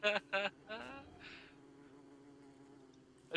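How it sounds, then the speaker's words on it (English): Killer bee buzzing in the video game Don't Starve: a steady, fairly quiet insect drone that runs through the clip, with a few short sharp game sounds at the start and end. "Killer bee."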